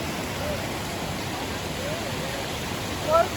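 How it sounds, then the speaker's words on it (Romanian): A waterfall in the Seven Ladders Canyon near Brasov, Romania, roars as a steady, dense wash of rushing water, close and loud throughout, with a faint voice briefly rising over it near the end. "Hai să coborâm, să vedem cascada."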